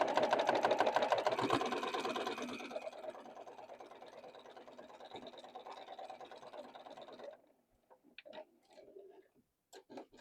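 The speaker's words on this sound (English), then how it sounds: "we've got to sew this to here" A sewing machine stitches a quilt block seam in a fast, rattling run of needle strokes that slows and fades, then stops, followed by a few faint handling clicks.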